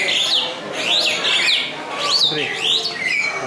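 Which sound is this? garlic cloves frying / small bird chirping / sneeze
small bird chirping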